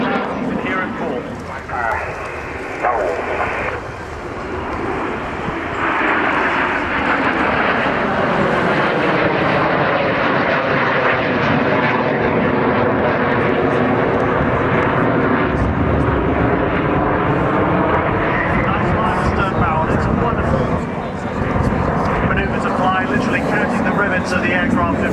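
Hawker Hunter jets at the RIAT air display roar past overhead in a loud, sustained engine rush that swells and shifts in pitch as they fly by, with an announcer speaking over the public address beneath the noise.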